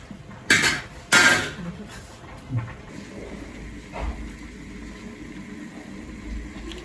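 A metal lid clanks twice onto a cooking pot of cabbage stir fry, two sharp bright hits close together, followed by softer clinks and a quiet kitchen hum.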